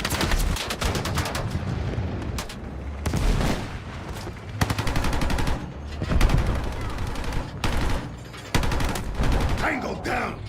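Gunfire in the Battlefield 6 campaign crackles in repeated bursts of rapid automatic shots with heavier booms, broken by brief pauses, loud and close, with a voice occasionally heard underneath.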